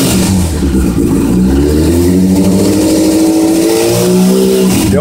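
Yamaha FZ6 motorcycle engine being revved during carburetor synchronization, a loud, continuous close-up engine note with throttle blips that rise and fall in pitch across the whole stretch, no voices.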